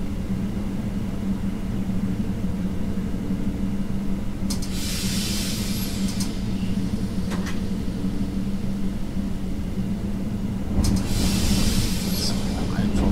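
Train in Train Simulator 2020 pulling away from a station, a steady low engine rumble with bursts of hissing air near five seconds and again near eleven seconds, loud and close with no talking.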